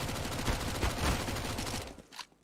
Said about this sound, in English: Simple gets an excellent shot with the AK to start it off